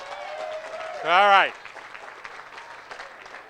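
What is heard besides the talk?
wedding guests applauding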